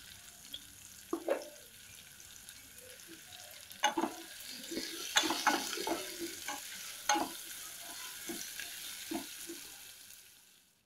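A drumstick gravy curry being stirred in a frying pan after salt is added, with repeated scraping and clinking strokes over a continuous soft sizzle, fairly close and uneven in rhythm.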